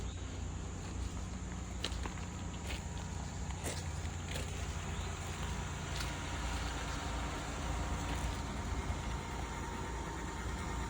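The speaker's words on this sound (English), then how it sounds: "Coming across, I can hear an engine running," A vehicle engine idles steadily at a towing auction lot, faint and continuous beneath light outdoor background noise and occasional footsteps.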